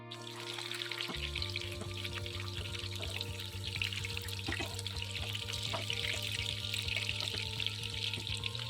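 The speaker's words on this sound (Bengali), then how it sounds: "মিডিয়াম আঁচে কিন্তু সমস্ত পকোড়াটাকে ভেজে নেবো" Chicken pakoras deep-frying in oil over medium heat, a dense continuous bubbling sizzle at moderate level throughout with a faint low hum underneath.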